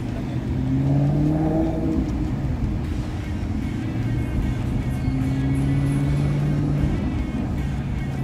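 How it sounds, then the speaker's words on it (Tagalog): Sports car engine revving while driving, a sustained drone with rising and falling pitch sweeps as it accelerates, steady and moderately loud with faint background voices. "Racing car? This is a racing car"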